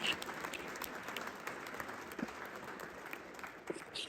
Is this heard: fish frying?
no